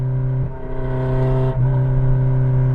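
A Civic's engine drones close and loud at high revs, a steady roar with a brief dip and surge midway.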